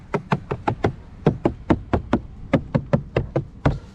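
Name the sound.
knocking on hard plastic door panel of Fiat Fastback Abarth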